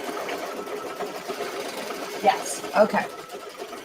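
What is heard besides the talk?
sewing machine doing the final stitching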